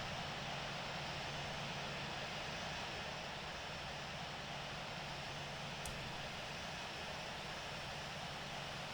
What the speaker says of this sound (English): All right, we got engine number 1 is spinning up.